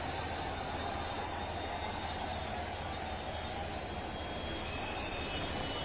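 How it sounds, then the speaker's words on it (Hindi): A steady, whooshing engine roar from a helicopter overhead showering flowers on Kanwar Yatra pilgrims, continuous and somewhat distant, with no voices. "आप देखिए इन तस्वीरों में ये हेलीकॉप्टर जिससे फूल बरसाए जा रहे हैं"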